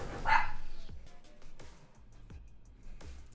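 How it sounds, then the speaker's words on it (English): Dog named Wisp barking indoors: one loud, sharp bark up front, then a series of softer, clipped woofs spaced roughly half a second apart, fairly close to the microphone. "Wisp is going to be barking a lot."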